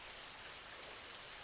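Heavy rain pours down steadily in an animated Hindi cartoon scene, a dense, even hiss of falling water with no breaks or voices.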